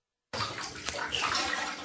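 A bathroom shower starts abruptly and runs as a steady, close hiss of spraying water for under two seconds, with no talking.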